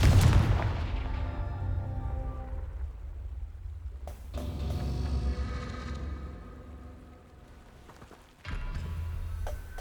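Confringo fire spells blast in a Harry Potter video game, one heavy boom at the start and further sharp explosive bursts a few seconds apart, with rumbling tails between.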